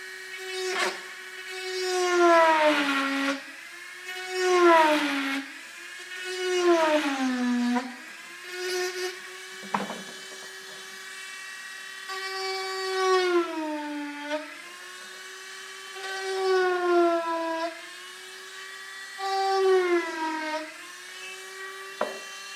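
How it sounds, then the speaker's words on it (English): A rotary grinder cuts into wood while carving an eagle head cane, its high whine sagging and recovering in repeated bursts as it bites and loads the tool, with short pauses and brief knocks in between. "Sometimes the wood will burn a little bit because I'm pushing it so hard with this grinder."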